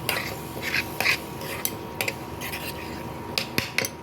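A ladle scrapes and clinks against a kadai as raw jackfruit curry masala, with coriander added, is stirred and sautéed, producing scattered metallic taps and scrapes over a steady low background.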